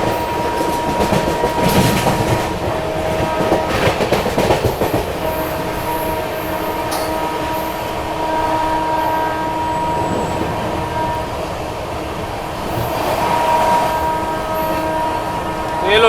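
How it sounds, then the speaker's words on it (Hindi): Marathwada Sampark Kranti Express running at about 130 km/h on the main line past a skipped station, with steady loud wheel rumble, clickety-clack rail joints and occasional squeals heard from inside a 2nd AC coach. "लगातार 130 ही भाग रही थी गाड़ी"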